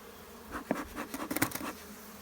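Honeybees buzzing around a hive being calmed with a smoker, a steady insect drone with a few brief louder swells as bees pass close, no talking.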